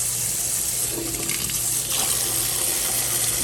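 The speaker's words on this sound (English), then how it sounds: "And fill it the rest of the way with water." Tap water gushes into a basin holding vinegar to soak ResMed AirSense 10 CPAP parts, a loud steady rushing flow close by with no talking.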